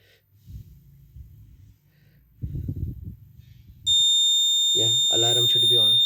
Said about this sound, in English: Yeah, alarm should be on.